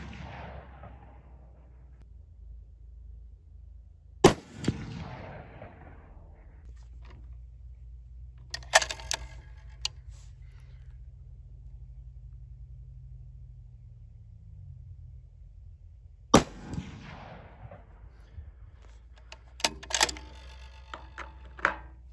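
A rifle fires over a MagnetoSpeed V3 chronograph while testing CCI 450 Magnum small rifle primers: two sharp, loud shots about twelve seconds apart, each with a rolling echo, over a steady low engine-like rumble and a few lighter clicks.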